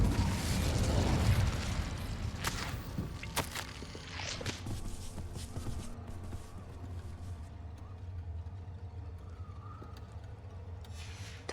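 A fire spell cast in the Hogwarts Legacy video game, a loud burst of flame at the start that settles into a sustained crackling roar with scattered pops and rumbling, continuing steadily without talk.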